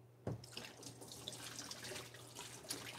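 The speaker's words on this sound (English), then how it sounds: "Let me wash my hands." Tap water runs into a kitchen sink while hands are washed, a steady soft splashing stream with small irregular splatters, fairly quiet and with no talk over it.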